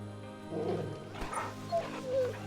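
A dog in Final Fantasy XVI gives a few short yips and whimpering barks spaced over a low steady game ambience, moderately close, with no talking.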